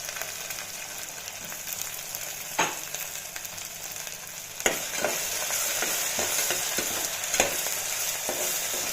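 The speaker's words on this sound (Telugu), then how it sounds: "ఇది కాసేపు నూనెలో వేయాలి" Onions and pounded ginger-garlic paste fry in hot oil for a country chicken curry, a steady moderate sizzle with a few distinct spatula knocks and stirring scrapes spaced through it.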